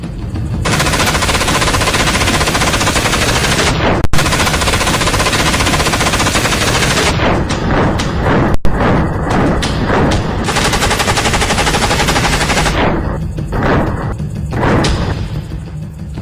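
Modern Israeli assault rifle firing long, loud, sustained automatic bursts up close, the rapid reports merging into a dense roar with short breaks, then turning into scattered separate shots near the end.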